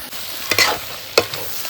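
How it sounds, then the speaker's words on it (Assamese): Meat fries in a pan with a continuous sizzle broken by two sharp stirring clatters, close and fairly loud, with no talking. "বাকী কিন্তু পূৰা মাংস ভাজি আছে।"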